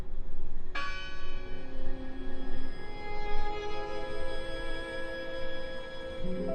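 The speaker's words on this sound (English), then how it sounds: "I heard the bell!" A single loud bell strike in the Draugen game rings out and decays slowly into a long shimmering hum over low background ambience.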